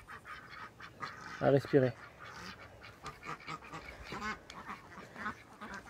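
A couple of short, loud duck-like honks stand out over outdoor background noise, with a voice speaking briefly later.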